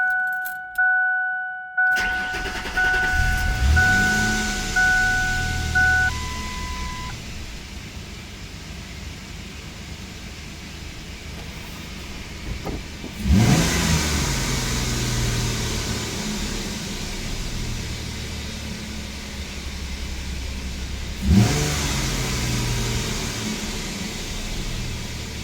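A 28-year-old Ford with a new intake air controller cranks over after a few beeps and key clicks, then idles roughly with two sharp revving bursts spaced several seconds apart, close and steady.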